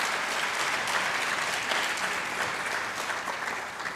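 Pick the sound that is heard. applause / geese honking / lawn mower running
applause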